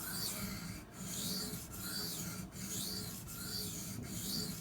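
Steady back-and-forth rasping of a Cold Steel Demko AD-15 knife edge being sharpened, continuous stroking with a few brief pauses between passes, close and moderately quiet with no talking.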